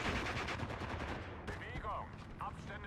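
Rapid rifle and machine-gun fire from a battle in the game Steel Division 2, rattling steadily for the first half then thinning to sparse shots, with a voice talking over it.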